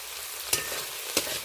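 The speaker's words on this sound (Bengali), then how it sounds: "এই দেখুন চিংড়িটা বেশ ভাজা ভাজা হয়ে গেছে পেঁয়াজ টমেটোর সাথে" Prawns sizzle steadily in a pan with onion and tomato, and two sharp scrapes of a stirring spoon break through the constant frying hiss, heard close up with no talking.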